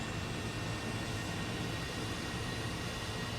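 Steady broadband roar of a Swedish jet aircraft engine in a combat flight video game, a continuous hiss-like drone held at an even level throughout with no voices.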